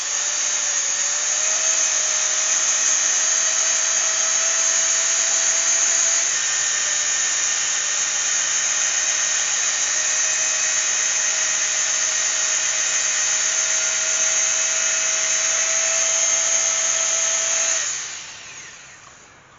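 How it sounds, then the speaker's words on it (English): A coarse sanding pad on a lathe sands a brass-inlaid oak bowl, giving a steady high whine and hiss that runs continuously for most of the clip, then stops abruptly and leaves near silence. "I'll just sand it off."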